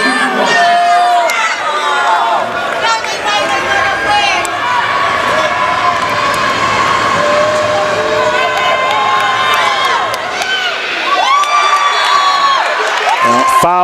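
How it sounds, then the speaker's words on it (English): High school basketball crowd at a Portland vs. Windham boys' varsity semifinal, a loud sustained roar of shouting and jeering voices filling the gym, with individual yells rising throughout and no pause. "Yeah, Windham crowd not happy."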